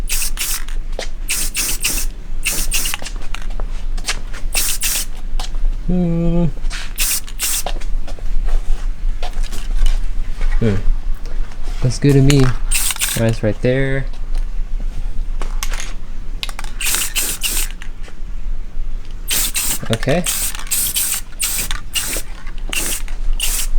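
Rattle-can spray paint hisses in repeated short bursts over SSR Type F wheels, with a voice speaking briefly between passes and a steady low hum underneath.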